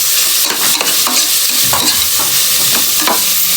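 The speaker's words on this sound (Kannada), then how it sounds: "ಇದನ್ನು ಸ್ವಲ್ಪ ಫ್ರೈ ಮಾಡ್ಕೊಳ್ಳೋದು ಬನ್ನಿ." Three medium onions fry for tomato biryani, a loud continuous sizzle close by, broken by regular stirring scrapes of a spoon in the pan and no voices.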